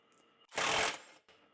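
A cordless 1/2 inch impact wrench briefly runs on a nut in one loud, close burst of about half a second, with fainter mechanical noise before and after.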